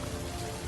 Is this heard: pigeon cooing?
no